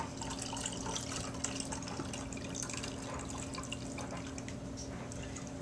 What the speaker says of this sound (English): we're going to go ahead and pour off everything else that's left in the crock pot